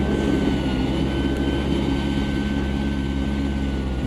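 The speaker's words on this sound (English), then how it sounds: "See the drone over there giving the overhead view of all the cars?" A camera drone hovers over race cars in the AM2 racing game, giving a steady droning engine hum with a faint high whine, continuous and fairly loud with no talking.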